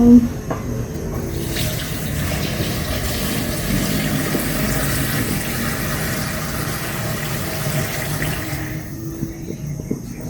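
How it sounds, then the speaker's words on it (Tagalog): Water poured into a pot of chicken soup seasoned with chicken cubes and salt, a steady, close rushing pour that runs for about ten seconds before easing off. "And tubigan ko lang po dito."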